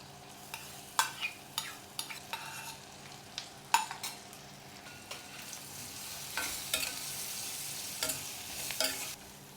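Gram flour with chopped onion and green chilli fries in a pan with a steady sizzle, broken by repeated sharp scraping clicks as a spoon stirs and taps the metal. There is no talking.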